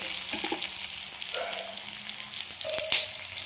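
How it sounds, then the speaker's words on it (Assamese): Onions fry with panch phoron in hot oil, giving a continuous loud sizzle up close, with a few faint clinks and no talking. "অকণমান পাঁচফোৰণ দি পিঁয়াজ ভাজিছোঁ"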